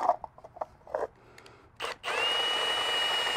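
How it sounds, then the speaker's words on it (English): A few scrapes and taps come first, then a power drill whirs up and keeps spinning steadily, boring into a plastic cap close by. "run the drill in reverse, like I'm doing here, and it still will cut a hole clean through"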